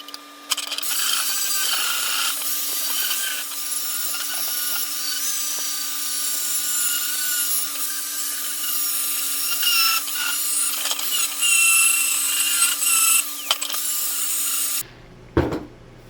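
A power grinder works down weld material on a strip welded into a Type 4 oil cooler fitted to a Type 1 VW engine, a loud, steady abrasive whine with a constant motor hum, running continuously before cutting off abruptly near the end.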